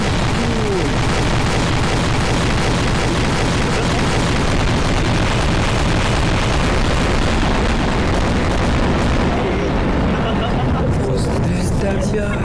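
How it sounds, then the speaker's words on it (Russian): A bomb blast in the video game Garry's Mod makes a loud, sustained roar of dense rumbling noise that fills the whole stretch, with a voice apparently talking over it. "Взрыв."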